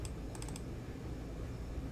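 Quick burst of several crisp keystrokes on a computer keyboard while working in Houdini, a close, light clatter at the start followed by quiet room tone.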